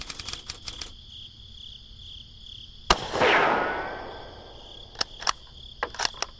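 A single sharp gunshot sound effect fires in a tabletop wargame battle scene and rings out into a long reverberant tail, set against a background of chirping crickets and scattered clicks.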